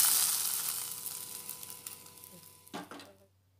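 Cashews and raisins fried in ghee sizzle as they are tipped into vermicelli for a milk-free pudding. The frying is loud at first, then fades, with a brief clatter of the pan near the end.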